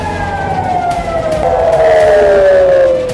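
Air raid sirens in Tel Aviv wail steadily in a loud, sustained tone that slowly falls in pitch, with overlapping siren layers and no voices.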